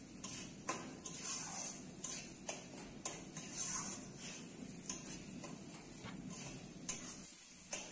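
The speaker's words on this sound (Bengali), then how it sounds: "তো দেখো ভালো করে আমি মশলাটা ভেজে নিচ্ছি।" Mustard-poppy spice paste fries in oil for katla fish curry, giving a soft close sizzle punctuated by regular ticking spatula taps against the pan, with no talking.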